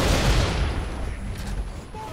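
Gunfire in the video game Gears of War 2, a loud, dense rattle of shots with heavy booms at the start that thins out toward the end, with faint voices underneath.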